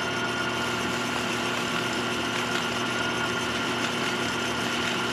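Wood lathe spinning a wooden ring for polishing, a steady whirring motor drone with a constant hum, close and fairly loud, unchanging throughout with no talking.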